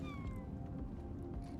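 Loot bugs in the video game Deep Rock Galactic let out a thin, cat-like descending squeak over a dense, rumbling game soundscape.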